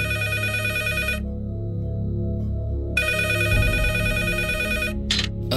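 A telephone rings loudly and close, two long electronic ringing bursts separated by a silent gap, with a faint rustle near the end and no one speaking.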